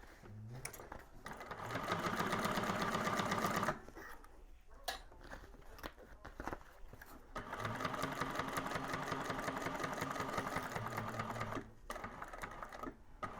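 A hand-crank sewing machine stitches around a curve of a Scottie convertible bag, its steady mechanical whir running in two long bursts with a short pause between, moderately loud and close with no talking.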